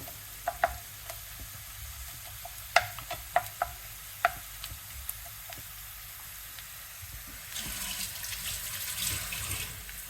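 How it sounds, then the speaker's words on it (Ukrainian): Quiet sizzling of onion frying in a pan, with occasional sharp clinks and taps, then a louder rush of running water near the end. "Тут ми продовжуємо смажити цибулю."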